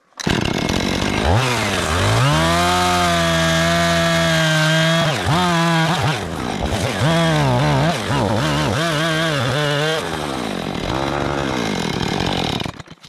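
A dulled chainsaw roars close by, bogging down as it bites into wood, with repeated revs and cuts before sputtering off at the end as it runs out of fuel.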